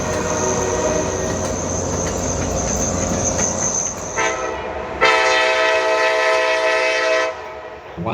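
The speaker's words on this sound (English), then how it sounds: "a loaded coal train pulled by a CM44AH and an ET44AH came speeding past on Main 2" A loaded coal train led by CM44AH and ET44AH locomotives speeds past on the main line with a steady rumble, then sounds a loud, sustained multi-tone horn blast up close.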